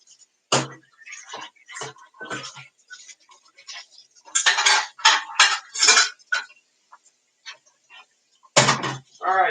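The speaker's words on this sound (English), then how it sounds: "Alright, so all the plates are washed." Plates, pots and pans, including an egg pan, are washed at a sink, sharp clinks and clatters of dishes and cutlery knocking together in uneven bursts, close and loud with brief pauses between.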